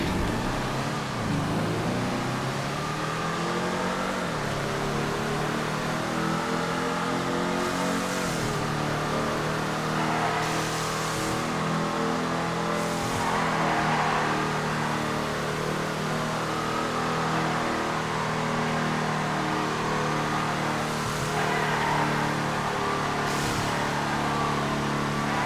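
Video game car, the Ennis Stelford, driving on a test ride: a steady engine drone with rising and falling revs through gear shifts, loud and continuous for the whole stretch with no talking.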